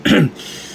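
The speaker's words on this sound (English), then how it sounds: "He stopped to clear his throat." A single short, close throat clearing, a gruff burst followed by quiet.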